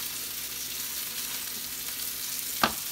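Mixed broccoli sizzles steadily in a hot pan with a soft, even frying hiss and one brief clack near the end.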